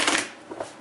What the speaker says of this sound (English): That was not a good shuffle right there.